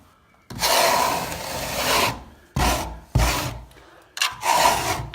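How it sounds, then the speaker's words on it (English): Scraping off a sand finish of CSR Cornice cement on a painted plasterboard wall: long, loud, close rasping strokes, about four separate passes with brief pauses between. "Okay, final sort of scrape off."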